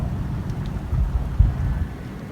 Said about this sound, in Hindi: बहुत ज़्यादा बारिश है, आंधी की तरह है बिल्कुल।